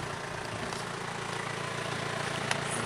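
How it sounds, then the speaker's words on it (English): A car engine idles steadily with a low, even rumble and a broadband hiss, continuous and close for a few seconds, with no talk over it. "Leave the engine going."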